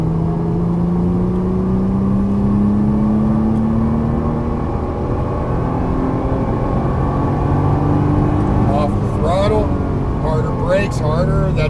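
A Nissan GT-R engine pulls hard on a racetrack, its note climbing steadily through the gears beneath constant cabin rumble, while an instructor talks over it toward the end.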